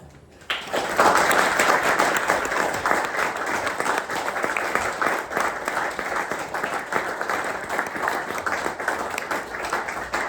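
An audience at a poetry event welcomes a speaker with sustained, dense applause that starts abruptly and stays loud and even until the end.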